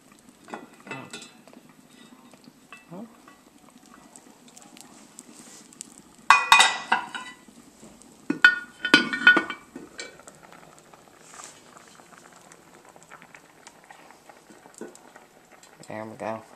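A metal lid is lifted off a wood-stove oven and swapped for another, giving a couple of sharp metallic clanks and scrapes amid long quiet stretches, with occasional nearby speech.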